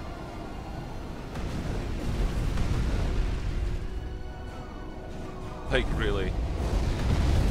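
Bomber strikes exploding in the strategy game Supreme Commander, a continuous rumbling roar of blasts with a sharper burst near the end, under a voice speaking briefly.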